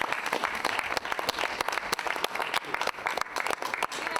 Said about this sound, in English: we can give another round of applause